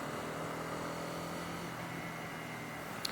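A 250cc motorcycle cruising on a Tokyo highway gives a faint, steady engine drone under wind rush, with a brief tick near the end.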